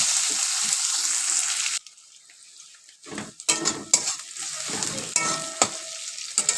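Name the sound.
chopped onions frying in oil while stirred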